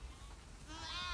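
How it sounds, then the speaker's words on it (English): Sheep bleating in the video game The Last of Us 2, a faint wavering cry rising near the end of a short, quiet stretch with a low rumbling background. "We definitely have way too many sheep."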